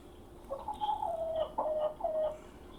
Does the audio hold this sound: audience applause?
no